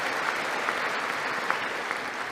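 Dense crowd applause, continuous and fairly even with a few sharper claps standing out, filling the whole short stretch without any voices on top.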